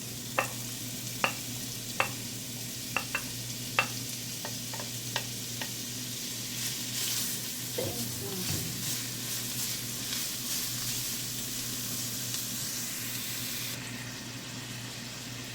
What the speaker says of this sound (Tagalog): maglalagay ako ng mantika. So, ilalagay natin yung carrots.